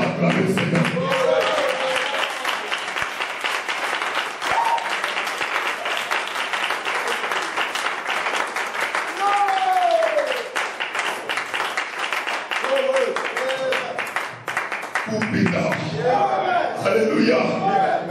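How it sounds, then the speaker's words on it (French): A church congregation claps loudly and steadily to acclaim the Lord, a dense continuous applause with voices and shouts mixed in throughout. "On va acclamer le Seigneur."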